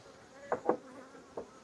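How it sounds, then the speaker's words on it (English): Honey bees at an open hive being worked without smoke, a few short close buzzing passes standing out faintly over a quiet background. "Got a lot of bees."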